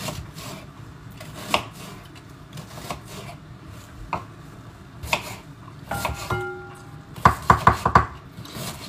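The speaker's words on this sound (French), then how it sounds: "Moi, j'utilise pratiquement que des oignons rouges. Donc pareil, je les découpe." Red onions chopped with a knife on a board, scattered single cuts at first, then a quick rapid run of close, crisp chops near the end in a quiet kitchen.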